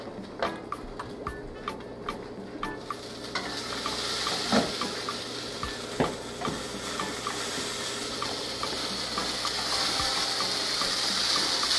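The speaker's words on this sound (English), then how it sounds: "So we're going to let it saute a little bit," Vegetables and herbs sauté in a pan with a steady soft sizzle. Occasional stirring clicks and scrapes sound up close.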